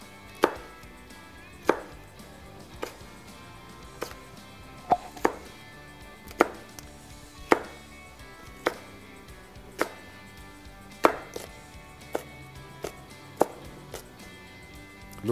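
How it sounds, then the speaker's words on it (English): A chef's knife taps down on a cutting board and slides through vegetables being cut into sticks, producing crisp, evenly spaced chops about once a second, close and clear over a quiet background. "take your knife, let it tap the board, and gently slide it"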